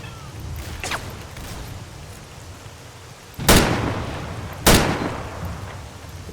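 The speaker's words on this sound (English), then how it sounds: "gunfire going on." Two sharp, loud bangs ring out a second apart over a rumbling, noisy background, gunshots in the game Call of Chernobyl.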